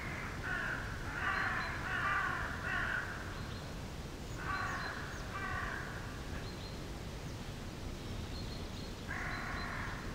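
Crows caw repeatedly in a forest in the game Trespasser, harsh calls in short bursts at a moderate distance over a steady bed of ambient hiss, with no voices.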